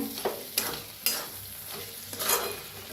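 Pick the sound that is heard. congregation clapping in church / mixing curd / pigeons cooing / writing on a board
mixing curd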